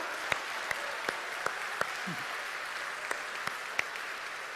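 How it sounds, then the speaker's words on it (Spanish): Congregation applause at a church service, a steady wash of clapping from many hands across the room, punctuated by a few sharper nearby claps, moderately loud and sustained with no speech over it. "¿Alguien puede dar un aplauso grande al Señor acá?"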